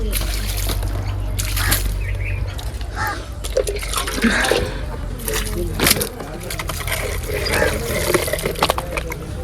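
Water sprays steadily from a hose pipe onto a brick wall and plinth at a house construction site, a continuous close hiss and splatter with occasional louder sloshing bursts and a faint voice in the background.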